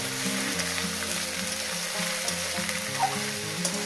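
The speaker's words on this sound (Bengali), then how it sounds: "এটাকে ভালো করে সুন্দর করে ভেজে নেব মিনিট পাঁচেক ধরে" Small river fish and Malabar spinach frying in a pan, giving a steady, close sizzle with soft stirring scrapes and no talk.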